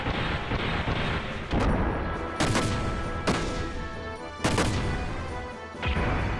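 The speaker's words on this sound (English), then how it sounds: "let's go with hard Gatling here" A Gatling gun attack fires in the Xenogears video game: a sustained mechanical rattle of rapid shots broken by several loud, sharp impact bursts roughly every second, with no talking.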